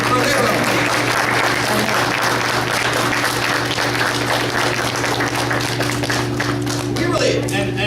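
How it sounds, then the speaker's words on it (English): A large audience of parents gives award-winning school kids a round of applause at a morning school awards event, dense, steady and loud throughout over a constant low hum. "So let's give these kids a round of applause one more time for their own."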